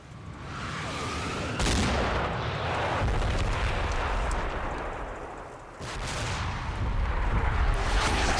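Artillery fire in the World War II video game Combat Mission, with heavy booming blasts rolling one into another and sharp impacts hitting near the start and again later, all over a dense, continuous battle rumble.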